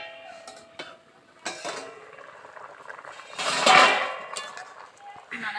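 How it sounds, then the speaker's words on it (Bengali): A cooking-pot lid comes off a simmering plantain and fish curry with a brief, bright metallic clatter near the middle, among smaller clinks of utensils, while someone talks nearby. "প্রায় 2 মিনিট পর আমি ঢাকাটাকে খুলছি।"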